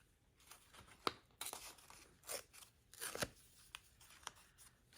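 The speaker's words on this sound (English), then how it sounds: "And then I'm going to cut it in half here." Scissors snipping through paper in a quiet craft session, a handful of crisp cutting strokes and rustles spread irregularly, close but soft, with no talking.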